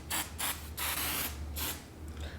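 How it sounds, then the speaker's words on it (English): Several short hissing sprays from an aerosol can of cooking spray, close up, a few quick bursts and one longer spritz with brief pauses between. "Let's go ahead and hit it with some of this spray."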